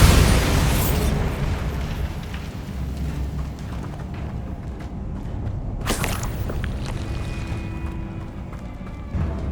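In the game Hogwarts Legacy, a Bombarda spell sets off a loud booming explosion that decays into rumbling debris, followed by a second sharp blast midway and lighter scattered crackles.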